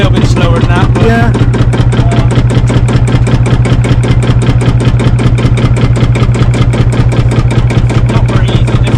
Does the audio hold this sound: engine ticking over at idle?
yes